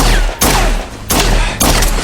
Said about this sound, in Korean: 머리에 한 발 쏘는 일명 모잠비크 드릴을 선보였는데